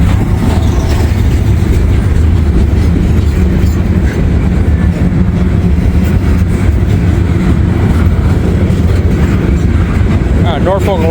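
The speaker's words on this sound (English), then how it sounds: "We got a gondola from 1980 older than dirt, Timmy." A freight train with old gondola railcars, one from 1980, rolls past loud and close in a continuous rumble with wheels clacking and squealing, and voices talk over it.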